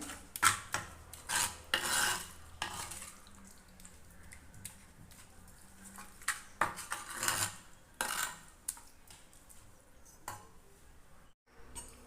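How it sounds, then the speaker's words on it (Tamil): A spoon clinks and scrapes against a vessel while pumpkin is mixed with sugar and cardamom, in irregular bursts of close metallic knocks separated by quieter pauses. "சர்க்கரை ஏலக்காய் பூசணி எல்லாமே நல்லா இப்படி மிக்ஸ் ஆயாச்சு"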